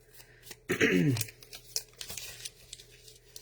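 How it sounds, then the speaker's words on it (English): Paper crumpled by hand while making junk journal embellishments, a loud crinkling burst of about half a second followed by softer rustles and taps, close up. "This paper, when I crumple it up,"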